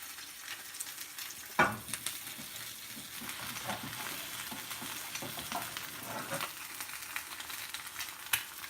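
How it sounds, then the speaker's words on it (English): Adobo lamb liver sizzles and spits steadily in a pan, with a sharp clatter early on and scattered pops throughout, close and fairly quiet. "Oh, it's splattering everywhere."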